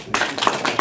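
A few scattered claps break out from the audience at a public history lecture, sharp and close, starting abruptly after a moment of quiet.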